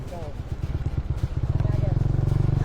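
A Honda CBR motorcycle engine revs and rumbles close by, rising into a steady, pulsing drone as the bike rides on downhill roads.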